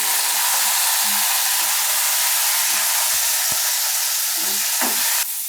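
Green chillies fry in hot oil with a steady, close sizzle and faint stirring scrapes, and the hiss continues unbroken throughout.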